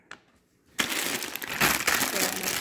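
A plastic bag of frozen cauliflower and broccoli crinkles loudly and continuously up close, starting after a short near-silent pause.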